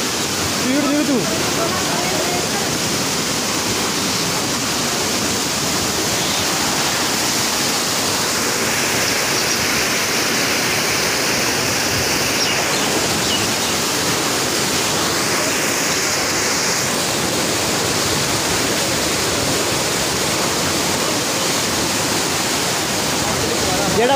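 The Beas river rushes loudly near the Kalinath Kaleshwar Mahadev temple, a steady broadband roar of fast water that fills the whole stretch without pause.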